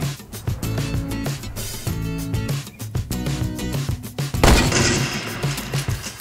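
Gunfire in the video game Fortnite, rapid loud bursts of shots in quick clusters with brief gaps, ending in a heavier blast and continued firing.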